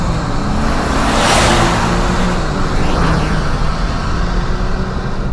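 A 2024 Chevy Silverado with the 2.7L TurboMax engine accelerates, a loud, close roar that swells and sweeps upward in pitch twice, with no talking.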